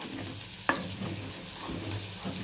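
Khichuri with cauliflower and spices sizzles gently in a pan on low heat as a spoon stirs it, with one sharp scrape or knock against the pan early on and soft frying hiss throughout.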